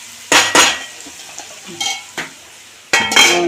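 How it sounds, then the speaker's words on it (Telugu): A lid set down onto a cooking pot while a banana and raw mango curry cooks, giving a few sharp metallic clanks spread across a few seconds, with quieter kitchen clatter in between. "మూత పెట్టేసుకుందాం"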